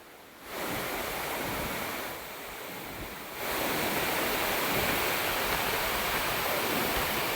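Floodwater rushes through a river at a submerged village bridge after heavy rains, a dense, continuous roar that swells louder partway through and holds steady with no voices.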